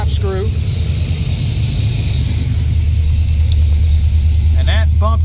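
A 1977-80 Corvette engine idles steadily at about 1100 RPM, a low continuous rumble throughout, with someone talking over it.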